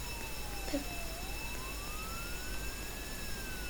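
A police siren in the Roblox game Jailbreak wails faintly in the distance, its pitch slowly falling and rising in a long, steady sweep.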